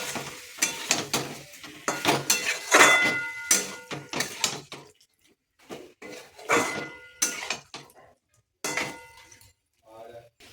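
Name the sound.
prawns being fried and stirred in a pan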